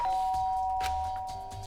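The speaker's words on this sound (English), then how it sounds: "I press the doorbell." A doorbell in the Danganronpa: Trigger Happy Havoc video game rings a clear two-tone ding-dong chime that lingers as a sustained electronic tone, then fades out, with nothing else over it.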